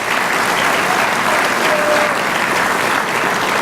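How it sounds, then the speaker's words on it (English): Loud, sustained applause from an audience at a firefighter graduation ceremony in Dutchess County, New York, an even wash of many hands clapping throughout without a break. "Round of applause for both of them one more time."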